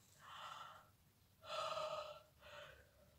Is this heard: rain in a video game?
no